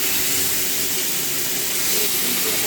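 Tomato dropped into hot mustard oil with cumin, bay leaf, chilli and whole spices, a loud, dense, continuous sizzle and hiss filling the whole moment, close up, with no talking.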